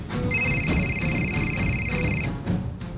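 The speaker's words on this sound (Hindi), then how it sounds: "मामी जी का फोन।" A steady electronic phone ring tone holds for about two seconds over a noisy, rumbling background, then cuts off.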